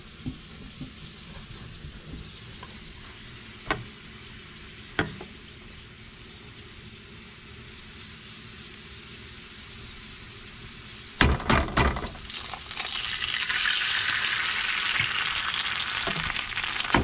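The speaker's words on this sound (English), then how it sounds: "Part of the process is to cook the eggs along with the Petey fries." Eggs frying in a pan together with fries, cooked in extra virgin olive oil: a soft steady sizzle with a few clicks, swelling into a louder, brighter crackling hiss partway through.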